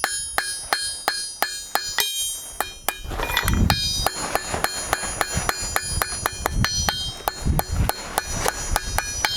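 Sharp, evenly spaced hammer blows ring out as a hammer peen textures a forged steel kebab skewer, the strikes coming in a steady rhythm with a bright metallic clink on each hit.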